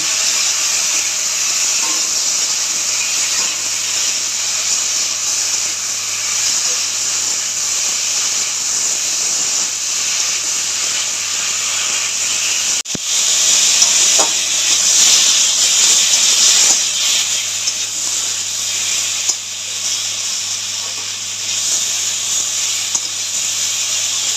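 A paste of cumin, ginger, coriander and green chili with a little water sizzles in a pan as a loud, continuous hiss that swells slightly midway and carries on alone.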